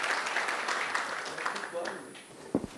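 Audience applause welcomes a speaker to the stage at a corporate talk event, a fairly quiet, steady patter of clapping across the room that thins out near the end, where a couple of louder bumps and brief voices come through.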